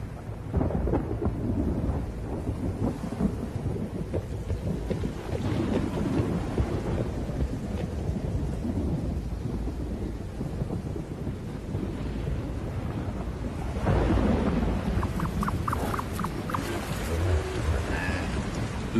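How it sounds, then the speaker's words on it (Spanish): Thunderstorm rolling in over open ground, with steady rain and rumbling thunder throughout and a louder, closer thunder burst near the end, some wind buffeting the microphone. "se acerca una tormenta."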